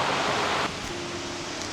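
Water flows down a waterfall in a Konkan village, heard close by as a steady, dense rush with no voices.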